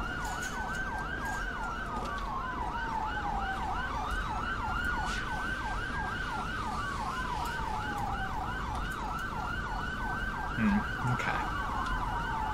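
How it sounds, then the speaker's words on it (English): Wailing police siren in GTA V cycling up and down continuously under low rumbling traffic noise, with a brief spoken word near the end. "Another siren? Okay, so the police are still roaming."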